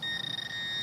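A metal detector gives a steady, high electronic beep that holds continuously for just under a second, with no voices.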